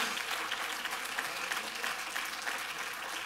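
A church congregation clapping hands together during Sunday worship, a steady wash of many palms at moderate distance, fairly quiet and even throughout.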